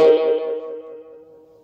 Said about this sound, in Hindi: आप सुन पा रहे होंगे कि ये इको के साथ साउंड आता है